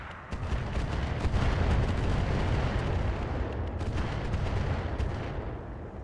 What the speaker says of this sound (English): I expect it to fire these rockets at the Nidhogg.